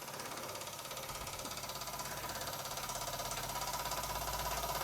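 A small Swindon vertical boiler model steam engine chuffs and clicks in a fast, even mechanical rhythm, running steadily and fairly quietly.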